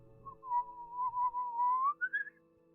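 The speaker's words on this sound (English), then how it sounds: "you hear that haunting whistle once again" A lone eerie whistle from a tabletop fantasy role-play session holds a wavering tone for nearly two seconds, then jumps to a higher, shorter phrase. It is moderately quiet over a faint low hum, with no talking.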